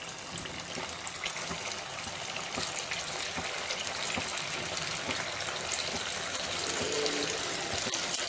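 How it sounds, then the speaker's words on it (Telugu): Aloo bread bondas deep fry in hot oil in a kadai, a continuous bubbling hiss that stays steady and fairly close throughout, with no talking. "నూనె వేడైన తర్వాత తయారు చేసుకున్నటువంటి బోండాలను వేసి వేయించుకోవాలి."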